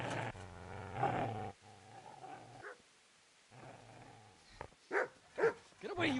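A dog growls and snarls in the medieval game Kingdom Come Deliverance, low rumbling bursts followed by a few sharper snarls near the end, with gaps of quiet between.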